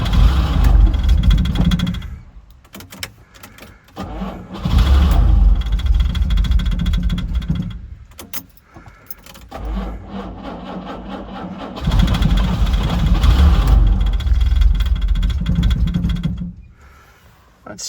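A 1968 Jaguar E-type engine that has sat unused for years runs on pulled choke close up, idling in uneven bursts with surging revs and brief drops where it nearly stalls.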